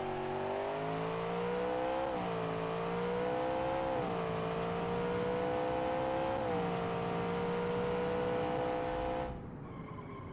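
A muscle car accelerates hard through several gears, its engine note climbing in rising sweeps with brief dips at each shift, loud and continuous before cutting off near the end.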